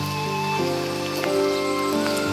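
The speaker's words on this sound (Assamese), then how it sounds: "ঘন অৰণ্যৰ মাজত দবা পিটা বৰষুণ চলি আছে, হয়তো আপোনালোকে শব্দ শুনিছে।" Heavy rain pours through dense forest in Dihing Patkai National Park, a steady close wash of drops on leaves with a few sharper patters standing out, no voices over it.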